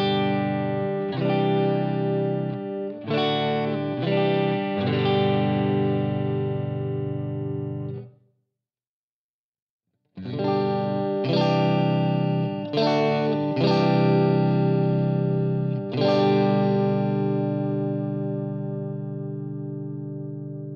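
A Harley Benton ST62 electric guitar runs through effects, ringing out strummed, sustained chords in two phrases separated by a short silence, loud and close with no voices over it.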